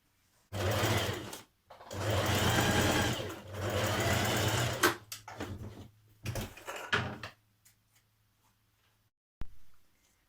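A sewing machine stitches the lining of a Burda 6320 dress in two long, loud, close runs, followed by a few shorter bursts and a fading low motor hum.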